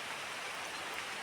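Heavy rain pouring down in Vedaranyam, a dense, steady, loud hiss of falling water with no breaks and no voices.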